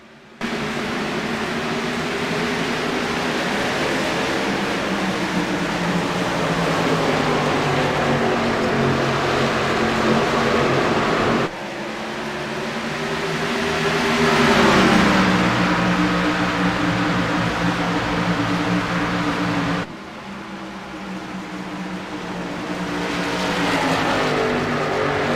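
Race cars go green at Phoenix Raceway in an ANZCAR Cup race, their engines snarling loudly and close as the pack accelerates, with rising and falling pitches from shifting gears and cars passing through several steady stretches.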